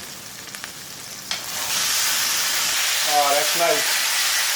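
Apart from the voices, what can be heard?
beef ribeye steak sizzling in Lodge cast iron skillet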